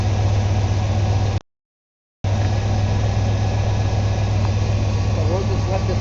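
A 1994 Ford F150 engine idling after fresh spark plugs, a steady low mechanical hum with one brief dropout partway through.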